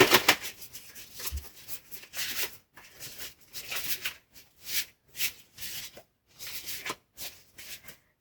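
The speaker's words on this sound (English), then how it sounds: "These cards are so hard to shuffle." Repeated bursts of tarot card shuffling, a dry riffling and rubbing that comes in short rhythmic flurries with brief pauses, close and fairly soft.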